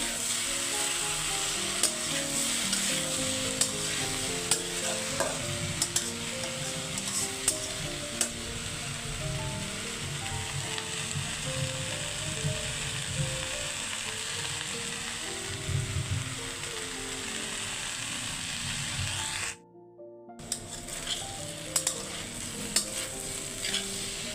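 Salted okra frying in a pan for a home lunch, with a continuous close sizzle and scraping stirs, a brief cut to silence near the end before the sizzle resumes; no talking.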